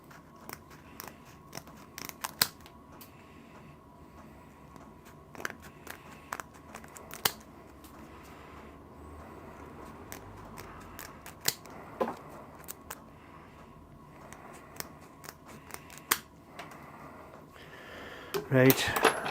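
Scissors snip through tough material while working on a Fowler steam wagon water injector, giving scattered sharp cuts and crunches spread over a quiet workshop background.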